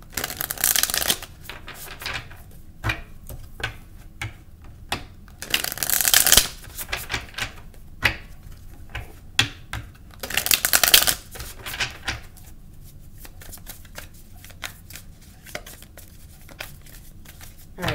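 Tarot cards being shuffled close up in several quick riffling bursts, separated by pauses filled with softer handling and light tapping.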